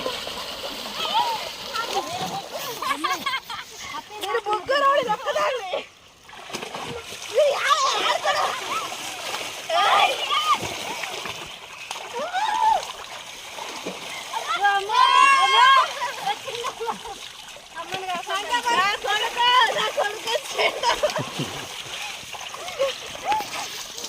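People splash and slosh around in water in bursts of varied loudness, with children's and adults' voices calling out over the splashing.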